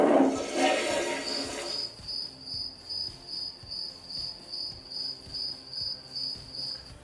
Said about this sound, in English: There's just crickets in there.